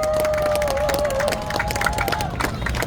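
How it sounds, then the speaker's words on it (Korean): A crowd at an outdoor election campaign rally in Cheongju applauds and cheers for a candidate, loud clapping and crowd noise mixed with voices and a sustained musical tone. "모두 큰 박수 부탁드립니다."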